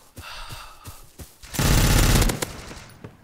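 Rapid gunfire from a browser shooting game: a few spaced single shots, then a dense loud automatic burst lasting under a second, followed by more scattered shots.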